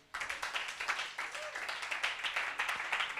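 A church congregation at a Yopougon camp meeting clapping and acclaiming Jesus: dense, sustained applause with shouts and cheering voices, loud and continuous after a quiet start.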